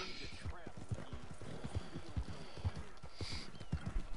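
Horse hooves clip-clopping at a steady walking rhythm in Red Dead Redemption 2, close and fairly quiet, with people talking over the footsteps.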